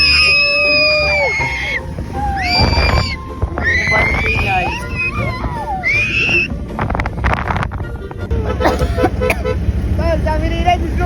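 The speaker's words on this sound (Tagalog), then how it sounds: "Grabe sigaw ng aking pamangkin dito, napaka-OA." A child screams on a sand dune ride, with repeated high, wavering shrieks rising over buffeting wind noise and a rumbling vehicle, loud and close.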